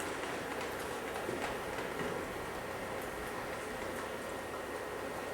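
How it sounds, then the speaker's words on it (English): An O-scale Southern Pacific AC-12 model locomotive with exact-scale wheels runs along a model track. It makes a steady, close whirring hiss with faint clicking wheel noise and no pauses. "The locomotive that we're watching is a hot off the presses first pass pilot model"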